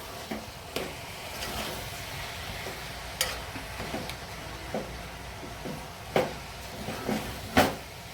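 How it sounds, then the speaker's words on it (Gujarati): A spoon stirring and mixing kanda poha (flattened rice with onion) in a pan, with irregular scrapes and clicks against the metal over a low, steady sizzle. "પછી બધું મિક્સ કરી લઈશું।"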